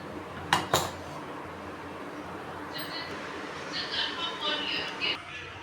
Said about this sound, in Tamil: குக்கரை வந்து மூடி போட்டு மூடிக்கலாம்